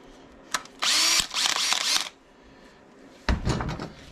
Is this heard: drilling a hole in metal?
yes